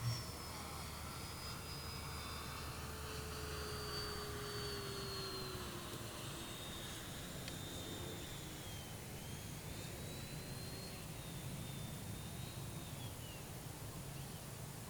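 E-Flite Viper 64mm electric ducted fan model jet whines steadily overhead, a continuous high-pitched whoosh that rises and falls gently as it flies, fairly distant, with no voices.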